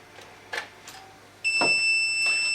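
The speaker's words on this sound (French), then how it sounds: "ça se met à biper, c'est normal, puisqu'il y a une alimentation qui ne fonctionne plus" An FSP Twins redundant computer power supply starts a steady, loud electronic alarm tone with several sustained high pitches once one of its two units is unplugged, following a few faint clicks.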